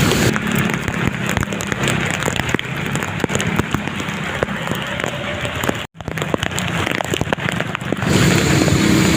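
Heavy rain pouring down steadily on a road with pooling water, a dense hiss of drops hitting surfaces with a brief dropout near the end, no voices.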